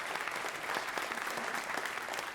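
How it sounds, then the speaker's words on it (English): Steady applause from an audience at a medical talk on multiple sclerosis, even and sustained, moderately distant with no talking over it. "I hope everybody could give them a round of applause and say thank you."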